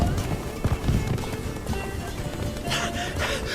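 Hooves pound in a quick gallop in the video game The Witcher 3: Blood and Wine, over a rushing background, with a voice speaking partway through.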